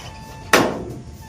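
A pigeon cage door opens with a single sharp knock or clack, followed by a short rattling decay in a quiet room.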